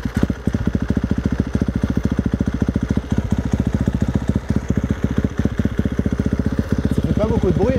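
A motocross bike with a tubular steel frame idles quietly despite its exhaust, a steady, rapid thumping pulse, close and even throughout, with a brief voice near the end.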